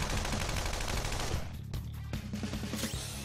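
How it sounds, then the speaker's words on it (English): Rapid gunshots in a Persona 5 battle, a loud dense burst of repeated shots with a short gap midway before the firing resumes, no talking. "I'm gonna try shooting her"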